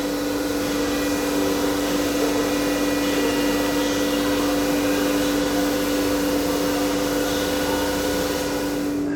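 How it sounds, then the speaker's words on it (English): Steady loud drone of an old machine shop where a Willys jeep engine is being repaired, constant whine and hum with a strong low tone, unbroken throughout and with no voices. "We are at the machine shop, if you couldn't tell, because it's a bit noisy"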